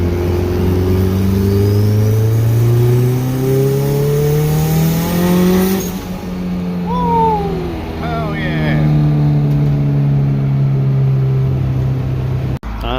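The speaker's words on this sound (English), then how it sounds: "Just gotta love that turbo noise." A turbocharged Honda B20 VTEC engine revs and accelerates loudly with rising harmonic sweeps and turbo noise, easing off midway, then pulling hard again, sounding close and continuous.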